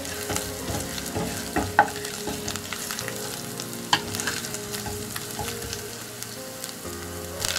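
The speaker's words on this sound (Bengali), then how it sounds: "মরিচ কুচিগুলো ভালোভাবে ভেজে নিতে হবে" Chopped green chillies with ginger and coriander leaves fry in a pan, a steady close sizzle broken by scraping stirs and occasional clinks of a spoon, with no voices.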